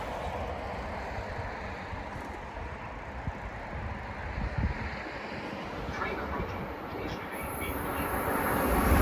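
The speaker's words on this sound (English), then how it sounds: "Train approaching. Please remain behind yellow line." A commuter train rolls toward a station platform on the Providence or Fitchburg line, a low rumbling roar with rattling wheels building steadily louder as it draws near.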